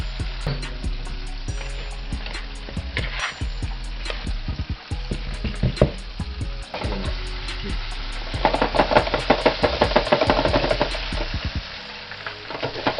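Fish deep frying in a deep fryer, a steady loud sizzle and crackle of hot oil running throughout, with bursts of stronger bubbling toward the end and occasional kitchen clatter.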